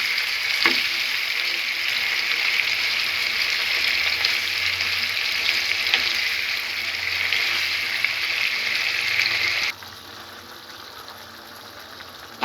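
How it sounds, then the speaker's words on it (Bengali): Duck meat frying hard in a pot with cinnamon and cardamom, a loud continuous sizzle with faint stirring that drops away abruptly near the end. "হাঁসের মাংসগুলোকে দিয়ে দিলাম, দিয়ে ভালো করে কষিয়ে নিব"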